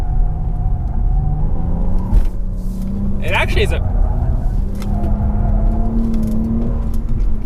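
A 2020 Toyota Avalon TRD full-size sedan with a V6 engine driving on the road, a low steady engine drone and road rumble shifting in pitch as it accelerates, with someone talking over it throughout.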